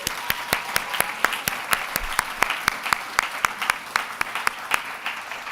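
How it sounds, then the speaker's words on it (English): Steady, sustained applause from a seated audience at a medical school awards ceremony honoring graduates, with many distinct hand claps ringing out continuously at a fairly close, moderate level. "Please join me in a round of applause for our ITQC graduates."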